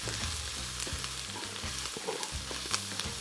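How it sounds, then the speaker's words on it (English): Garlic, turmeric and red pepper flakes fry in olive oil with onions, a continuous close sizzle with stirring scrapes and small crackles throughout. "Next we're going to add garlic and turmeric and red pepper flakes. And we're going to just cook that for about a minute."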